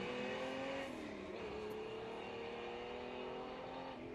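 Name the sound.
Holden Torana XU1 six-cylinder race car leaving the line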